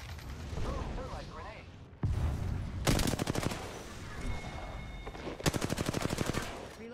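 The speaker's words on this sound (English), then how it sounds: "The enemies are shooting at me." Enemy gunfire in the Apex Legends video game, with two long bursts of fast automatic shots that sound loud and close, plus scattered mechanical clatter and game noise between them, under a speaking voice.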